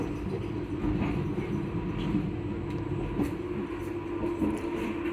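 Inside a two-carriage train on the Isle of Wight, a steady low rumble of running on the rails fills the cabin, with bumps and rattles from the rough ride.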